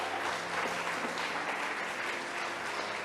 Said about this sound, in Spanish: ¿Cuánto le dan un aplauso?